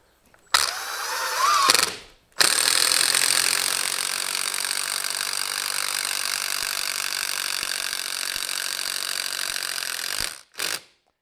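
Milwaukee impact driver sinking a fastener into wood, a short burst then one long continuous loud whirring hammer lasting about eight seconds before stopping, close up with no talk.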